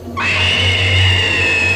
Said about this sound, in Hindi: ये देखकर माँ डर के मारे चिल्लाती है।